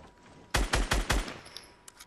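Four rapid, loud gunshots fire in quick succession in a shooter video game, followed by quieter faint clicks and ambient game noise.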